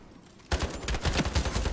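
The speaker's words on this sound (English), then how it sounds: "Oh, AK-47D. Vadin's been talking about this weapon." AK-47 rifle fire in the shooter game Ironsight, a sudden burst of rapid, punchy automatic shots starting after a quiet moment and rattling on loud and close.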